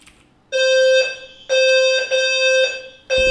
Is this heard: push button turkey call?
no